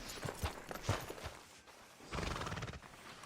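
A horse in a video game neighs and clip-clops, giving a few short whinnies and hoof sounds at a faint, moderate distance, with a brief pause in the middle.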